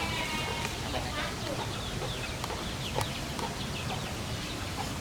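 Chickens cluck in a leafy rural yard, with brief scattered calls over a steady outdoor background and nearby talk.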